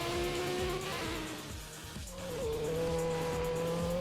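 BMW M6 with a 500 bhp V10 in the Midnight Racing Tokyo video game, its engine note climbing in pitch, briefly dropping at a gear change, then rising again, loud and steady, with tyre noise underneath.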